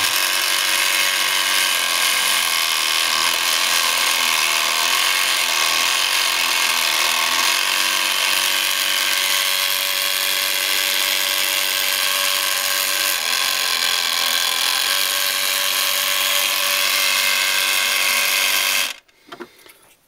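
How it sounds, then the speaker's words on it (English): A power tool cuts into a basswood craft barrel, a continuous loud high-pitched whirring grind lasting about nineteen seconds before cutting off abruptly, with no talking. "I can turn the barrel on this stop and make the barrel cut"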